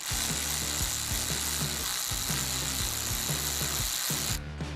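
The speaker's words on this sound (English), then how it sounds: "Now, we need to actually totally remove the rest of the nut. So we'll do that with the 8mm." A ratchet or power driver spins an 8mm nut off a battery ground terminal bolt in a 2008-2016 Ford Super Duty, giving steady close whirring with rhythmic clicking pulses that stop abruptly near the end.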